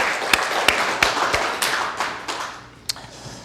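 A church congregation claps during a Sunday service, giving a loose run of sharp claps that trails off into scattered single claps.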